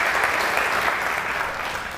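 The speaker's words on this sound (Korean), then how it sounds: "자, 여러분 박수로 청해 듣겠습니다." Soldiers at an army unit clap together during a morale-boosting visit. The applause is loud, full and steady, thinning slightly toward the end.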